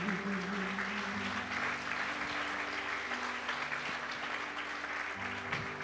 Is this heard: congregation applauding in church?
yes